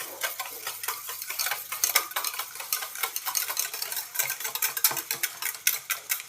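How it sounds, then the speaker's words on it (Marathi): Eggs mixed with salt, turmeric and cumin are whisked briskly with a small utensil against a bowl, producing rapid, rhythmic clicking and tapping strokes that grow sharper and more regular, close and with no talking. "या यंत्राच्या सहाय्याने असं छानपैकी मिक्स करून घ्यायचं आहे"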